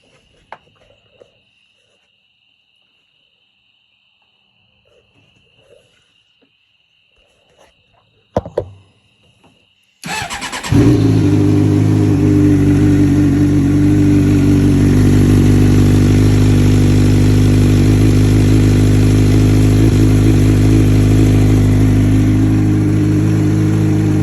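After quiet handling clicks, a 2006 Suzuki GSX-R 600 motorcycle engine cold-starts, cranking and firing up abruptly, then settles into a loud, steady idle that runs continuously.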